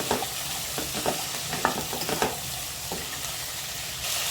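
Cauliflower and potatoes dusted with turmeric and salt are stirred in a pan, with a soft steady sizzle under quiet scraping strokes from a spatula and a few sharper clinks.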